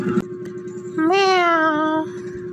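A single drawn-out cat meow, clear and close, rising then falling over about a second, with a steady hum and faint clatter underneath.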